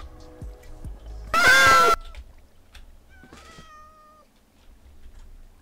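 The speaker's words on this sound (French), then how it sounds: "vous entendez bien des chats" A loud, drawn-out cat meow rings out in Minecraft, followed by a softer second meow, with faint clicks around them.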